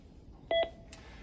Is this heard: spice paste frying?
no